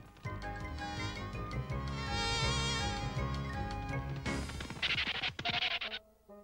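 Cartoon fly buzzing in a French animated comedy episode, a busy wavering whine over loud music and comic sound effects, then sharper hits and bursts before fading near the end.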